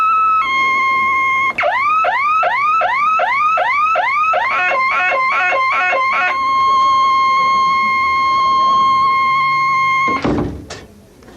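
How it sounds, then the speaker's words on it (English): A door alarm at a dementia daycare facility sounds with a loud, steady electronic tone and rapid warbling chirps, ringing continuously for about ten seconds before stopping with a clunk. "So what we do is we have an alarm on the door, and then the staff knows the code."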